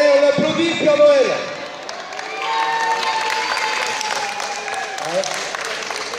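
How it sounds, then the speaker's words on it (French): Children and adults at a Christmas youth tournament clap and call out for Santa Claus, a lively crowd with voices rising over the applause throughout. "on applaudit Père Noël"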